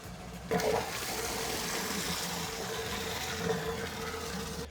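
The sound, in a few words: water draining from water heater tank through sediment buster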